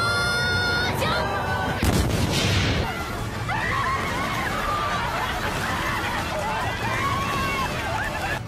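A burst of heavy explosive gunlance blasts in Monster Hunter, followed by rumbling and clattering action sounds, with faint voices mixed in.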